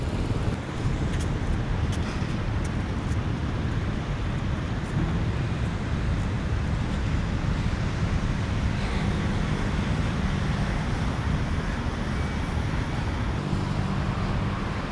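Ocean waves wash steadily onto a beach in Da Nang, with a continuous roar of surf and gusting wind rumbling against the microphone throughout, and no voices.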